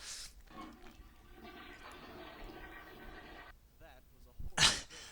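An animated cartoon toilet flushes in a rushing, gurgling swirl of water lasting a few seconds, with voices over it and a sharp burst at the end.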